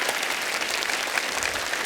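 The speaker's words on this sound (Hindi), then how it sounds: "नेशनल टीम, एक बार जोरदार तालियां हो जाए" Studio audience applause on the Kapil Sharma comedy talk show, a dense, steady clapping from a large crowd that fills the whole moment without a break.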